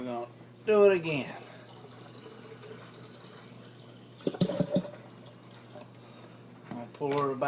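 Homemade kiwi strawberry wine is poured from a bottle into a container, with a steady, close splashing stream under a person's speech.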